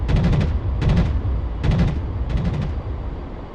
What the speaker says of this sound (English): And again, just listen to those guns.